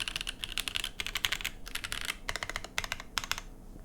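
Typing on a $170 aluminum top-mount mechanical keyboard, close and crisp, with quick bursts of clacky keystrokes separated by short pauses.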